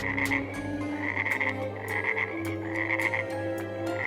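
A frog croaks over and over in quick rhythmic bursts, each croak a short throaty pulse repeating steadily and close by, with no talking.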